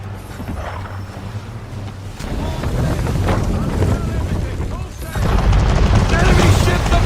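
A sailing ship in Assassin's Creed 3 runs under full sail, with a broad, loud rush of wind and water that swells partway through, while voices speak over it.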